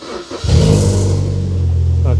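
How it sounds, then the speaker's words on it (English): A cold BMW engine cranks and catches, then settles into a loud low rumble with a rising rev, close by and unbroken. "let's start the car and see what happens"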